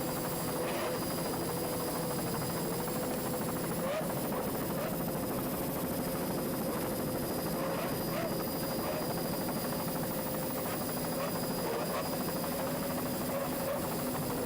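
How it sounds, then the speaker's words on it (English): Twin 200 horsepower Johnson outboard engines on a racing powerboat in an offshore race near Islamorada, a steady loud droning whine with a sustained tonal pitch throughout, under faint talk. "Let's listen to those two 200 horsepower Johnson outboards."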